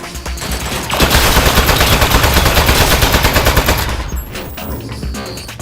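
Turret machine-gun fire in Aperture Desk Job rattles out as a loud, rapid, sustained burst lasting about three seconds, then cuts off abruptly, with no talk.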